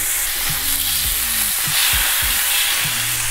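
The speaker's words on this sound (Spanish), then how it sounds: "Esto es rápido, solo un par de minutos, unos 2 minutitos por lado, solamente queremos sellar" Beef suadero sears in hot oil inside an Instant Pot with a loud, close, constant sizzle, broken by a few low scraping stirs of the meat.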